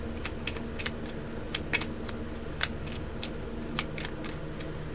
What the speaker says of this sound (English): I will switch and get a different deck. Now I didn't shuffle this one,